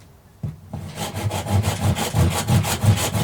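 Hard timber being cut with a hand saw, a steady rhythmic back-and-forth rasp of roughly a stroke every third of a second, close and fairly loud with no voices.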